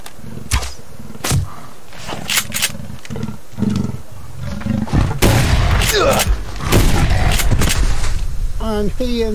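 A wild cat roars repeatedly in the survival video game Subsistence, loud close snarling roars mixed with sharp bangs and booms, with someone speaking between them.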